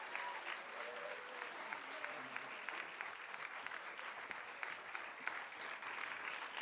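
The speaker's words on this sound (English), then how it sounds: "Give him a huge round of applause" An audience at a Moth StorySLAM storytelling event gives a storyteller a sustained round of applause, a steady even wash of clapping that fills the room from start to finish.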